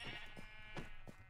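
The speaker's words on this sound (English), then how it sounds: "we're going to kill all these sheep" Minecraft sheep bleat in several short, quiet calls spread across a moment, each a brief nasal cry over faint game background.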